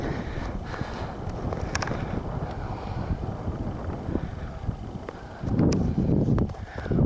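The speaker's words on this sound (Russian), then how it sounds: "Ух, и дует же, да." Strong wind blows outdoors along a snowy trail, a loud, rough buffeting roar against the microphone that swells into heavier gusts toward the end.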